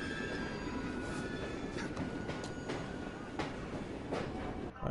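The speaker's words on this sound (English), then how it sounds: "Where's this train taking me?" A train rolls along rails in the video game Syndacite, a steady loud rumble with rattling wagon noise and occasional faint wheel squeals throughout, with no one talking.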